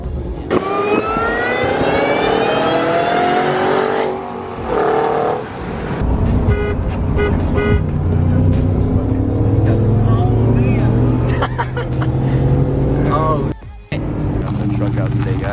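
A Cobra Terminator engine revs with its exhaust valves open, a loud continuous roar with rising and falling revs over about fifteen seconds, close by, with other car and road noise mixed in.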